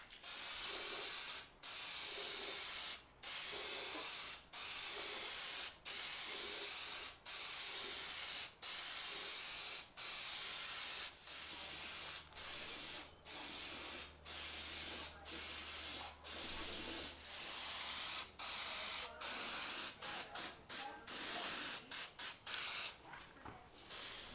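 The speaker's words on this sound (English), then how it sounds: "Going to paint the fireboxes, the related components, the manifolds with this Rust-Oleum High Heat Ultra silver paint." Repeated bursts of Rust-Oleum High Heat Ultra silver aerosol spray paint on barbecue fireboxes and manifolds, hissing in steady short blasts with brief pauses between them, close by and loud.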